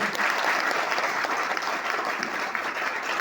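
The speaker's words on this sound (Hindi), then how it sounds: "एक बार फौजियों के लिए जोरदार तालियां बजा दें।" Loud, dense applause from a crowd cheering for soldiers, sustained and even across the whole stretch with no pauses.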